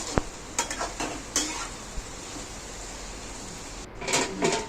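A spoon stirs an ivy gourd and drumstick curry in a pot, giving a few scraping, clinking strokes against the metal over a soft steady background hiss, with short pauses between bursts.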